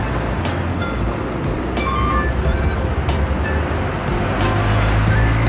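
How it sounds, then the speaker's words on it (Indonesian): A Harapan Jaya bus pulls away toward Surabaya from a busy stop at Kertosono on a Monday morning, its steady engine rumble close and loud amid continuous roadside traffic noise and bustle. "Dan ini bus Harapan Jaya berangkat menuju arah Surabaya."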